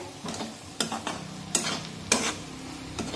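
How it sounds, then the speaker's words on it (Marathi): A spoon scrapes and stirs onion, garlic and masala spices frying in a pan for a dried-fish chutney, sharp scraping strokes in an uneven rhythm over a low steady sizzle, close and clear. "आता हे सर्व मसाले व्यवस्थित मिक्स करून घेऊया।"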